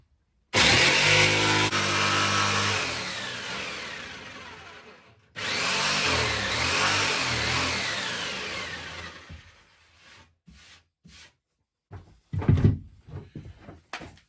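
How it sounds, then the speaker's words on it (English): Oscillating multi-tool cutting into a narrowboat bow, a loud, steady buzzing whine in two long passes of about five and four seconds each, followed by faint knocks and a brief clatter. "Yep, you guessed it, it's the multi-tool"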